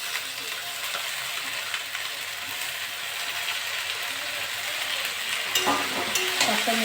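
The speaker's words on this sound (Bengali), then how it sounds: "শাকটা নেড়ে চেড়ে দেবো।" Potatoes and kulekhara greens frying with prawns in a pan, stirred steadily, producing a continuous close sizzle with scraping stirring strokes that grow a little louder toward the end.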